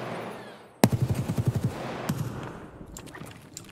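Gunfire in a video game rings out as one sharp shot followed by a quick burst of about eight rapid rounds, then a few scattered later shots, fairly close and loud.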